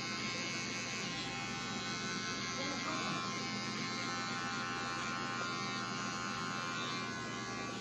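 Electric hair clippers buzz steadily and close up while cutting a fade in a mohawk haircut, a continuous even drone with no break.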